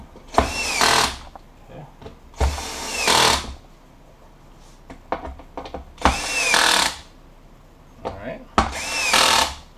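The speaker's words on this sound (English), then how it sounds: "Now in this case, I actually need to go back to my socket driver." Power socket driver tightening battery box screws on a Metroboard Slim electric skateboard: four short whirring bursts, each rising in pitch, close and loud with pauses between, and someone speaking briefly in between.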